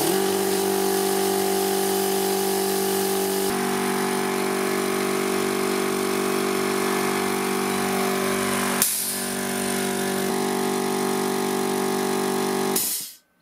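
Two air compressors, rated 2200 W and 1500 W, from Lidl Parkside and Scheppach, running together off a solar generator. They give a loud, steady mechanical drone that shifts in pitch partway through and cuts off abruptly at the end.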